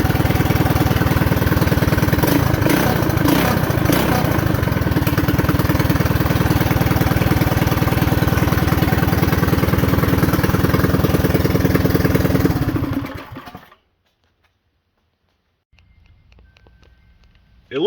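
Custom off-road chopper motorcycle engine idling up close with a steady, loud mechanical rumble for about thirteen seconds, then cutting off abruptly into silence, followed by faint low background noise.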